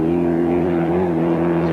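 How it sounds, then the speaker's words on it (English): Rally car engine at the 1993 Paris-Dakar Rally, its exhaust fitted with a baffle, droning steadily and loudly with a strong low harmonic hum that holds without a break. "Sounds like he's got a baffle going in that exhaust as well"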